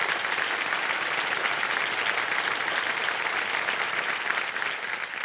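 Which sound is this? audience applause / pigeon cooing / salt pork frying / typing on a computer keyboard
audience applause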